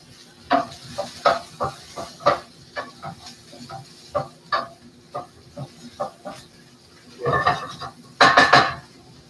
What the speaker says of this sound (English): I gotta stir my onions up